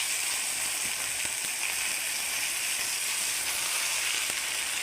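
Leafy greens fry in a pan, giving a loud, steady broadband sizzle and hiss with faint crackles throughout.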